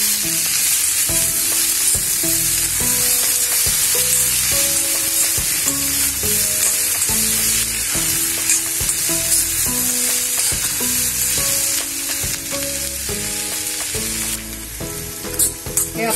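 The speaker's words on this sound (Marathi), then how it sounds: "थोडंसं त्याच्यातलं पाणी वगैरे जाण्यासाठी आपण थोडं परतून घेऊया, वाफ जाण्यासाठी" Onion and tomato masala sautéing in a pan gives a steady, close sizzle that runs the whole way through, with melodic background music layered over it.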